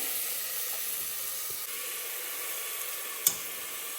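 Onions sautéing in a pan for carrot rice give a soft, steady sizzle and hiss, with a few faint knocks and one sharp clink near the end.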